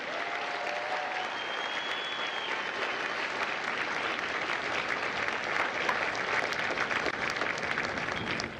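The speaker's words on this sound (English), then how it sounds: "Ladies and gentlemen, a round of applause for the Marines that make Marines, the drill instructors of God's Company." Large outdoor crowd at a Marine Corps Recruit Depot San Diego graduation gives the drill instructors a long, steady round of applause, dense clapping with a few whistles rising above it.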